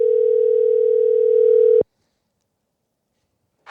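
A single steady phone ringback tone buzzes loudly for almost two seconds, then cuts off into silence before a voice begins.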